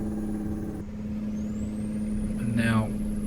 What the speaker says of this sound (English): Full engine brake.